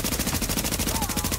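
Sustained automatic rifle fire from a Tom Clancy's The Division firefight, a steady rapid string of evenly spaced shots, loud and close throughout.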